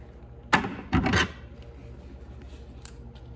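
Scissors cutting paper for a pop-up card: a couple of short, close snips and rasping slices, then quiet with a faint hum.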